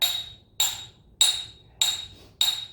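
Five evenly spaced, sharp metallic hammer strikes ring out as a hammer beats a damaged fender against a body dolly, each hit close and bright with a short ringing decay, no talk.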